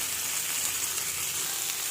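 Paneer frying in a pan gives a loud, steady, close sizzle with a bright hiss that runs evenly from start to finish, with no voices over it.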